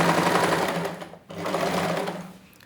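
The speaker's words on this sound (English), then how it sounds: "take to my sewing machine and just sew very close to the zipper" A sewing machine runs in a loud, fast, steady drone as it sews close to the zipper of a women's trouser, breaking off briefly midway and then starting up again before it fades out.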